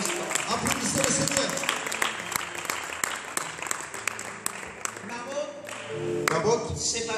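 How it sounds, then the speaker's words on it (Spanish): A church congregation gives a big round of applause during a sermon, with a loose scatter of claps and taps close by while a voice speaks over and between them. "Dale un aplauso grande"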